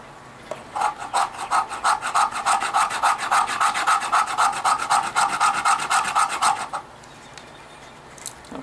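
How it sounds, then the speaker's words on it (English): A blade rasps down a very dry fatwood stick to feather it, a rapid, even series of close scraping strokes lasting about six seconds, then stopping. "Let's go ahead and try to feather it up a little"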